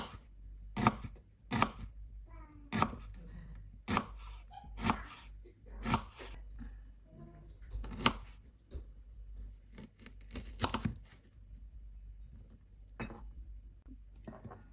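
A knife cuts a Bombay onion into thin slices on a board, with irregular sharp chops spread across the stretch, some in quick pairs and others spaced apart, close and fairly quiet with soft handling noises between.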